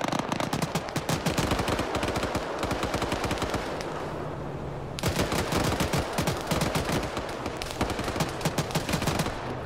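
Rapid bursts of automatic gunfire in a video game, loud and dense, rattling almost continuously with a brief lull around the middle before the firing resumes.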